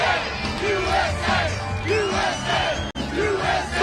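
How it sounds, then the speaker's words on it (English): A large crowd at an outdoor political rally in Wildwood, New Jersey chants in a steady repeating rhythm, loud and sustained, with voices swelling together in a mass of sound. "as the crowd chants USA"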